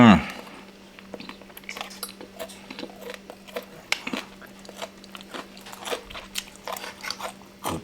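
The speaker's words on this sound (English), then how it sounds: "Good crunchy bacon." Someone bites and chews crunchy breakfast bacon up close, giving a run of sharp, irregular crunches and snaps over a faint steady hum, with no talking.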